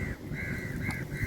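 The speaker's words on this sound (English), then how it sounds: "3 crows, in fact, have just passed overhead." Crows flying overhead give several harsh, rasping caws in quick succession, moderately loud against a quiet outdoor background.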